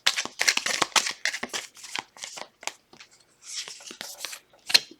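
Tarot cards are shuffled by hand in quick, crisp riffling bursts with brief gaps, close and fairly quiet.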